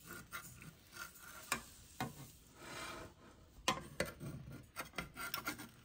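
A metal utensil scrapes and rubs against a nonstick pan in faint, irregular strokes with a few sharper taps, quiet and close.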